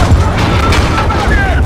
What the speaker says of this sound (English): Blow it. Fire in the hole.